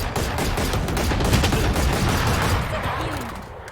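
Rapid gunfire from the video game Valorant, a dense, continuous burst of shots crackling loudly throughout before easing slightly at the end.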